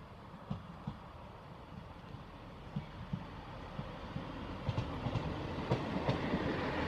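A Class 158 diesel multiple unit on a Liverpool Lime Street to Norwich service arrives at a platform at Grantham, its wheels clicking over rail joints at a steady pace under a low, continuous rumble that grows slightly louder toward the end.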